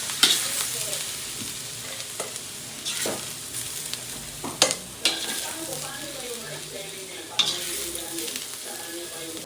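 Cabbage sautés in oil in a pan for pansit bihon, giving a continuous crackling sizzle. Irregular scrapes and knocks of a spatula stirring break through it, close by, with faint background voices.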